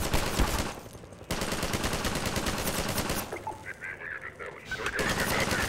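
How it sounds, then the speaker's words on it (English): Rapid machine gun fire in the Half-Life 2 sewers, loud bursts of dense crackling shots mixed with game effects and brief pauses, with talk over the gunfire. "I don't wanna charge a machine gun"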